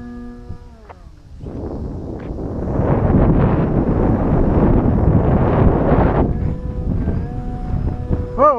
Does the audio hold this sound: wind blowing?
yes